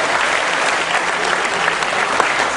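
An audience at an anti-corruption event applauds, a short burst of dense, even clapping throughout with no voices.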